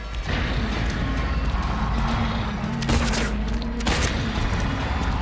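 Gunfire from Silent Hill 2 Remake on PS5 in a fight against Pyramid Head: a dense run of booming shots and crashing impacts over a low game rumble, loud and close.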